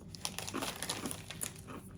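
Bag of Brownie Brittle snacks crinkled open, quiet irregular plastic crackling and rustling throughout.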